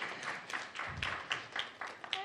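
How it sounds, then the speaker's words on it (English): Sparse, quiet applause at a business competition for the finalists, individual claps spaced out and tapering, with a brief murmur of voices. "one more final round of applause for our wonderful finalists here today"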